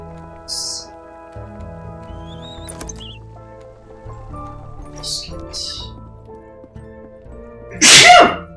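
A single loud, sharp sneeze bursts out near the end amid quiet background sounds in a wintry forest burrow scene, with scattered small noises and speech around it.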